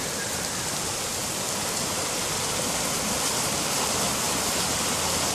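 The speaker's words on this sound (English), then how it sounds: "this little creeklet, as you can see, is flooding pretty nicely over here. All the water's powering through." A small flooding creek rushes and churns steadily during a rain event, its broadband roar of water constant and close throughout, with no voices.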